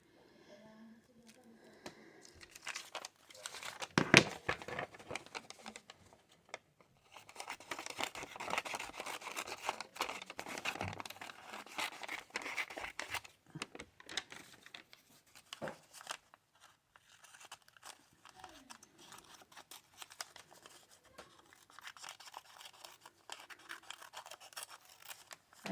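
Sharp scissors cutting paper scraps during stamping and card-making, irregular bursts of close snipping and crisp paper rustling with quiet pauses between cuts.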